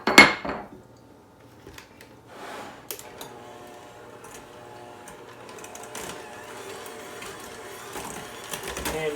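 Two sticks of softened butter being creamed for mini loaves: after a brief knock at the start, a steady mechanical whir builds and holds, close and fairly loud, with faint clatter.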